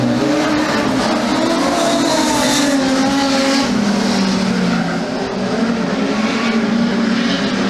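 Production sedans race around a circuit, engines roaring loud and close in a dense continuous blare, with rising and falling engine notes as several cars pass and no talking.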